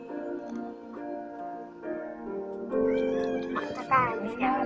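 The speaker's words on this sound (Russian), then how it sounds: "Так вот моя кошка." A pet cat meows in a string of drawn-out, wavering cries that grow louder and more insistent toward the end, heard close up indoors against a quiet background.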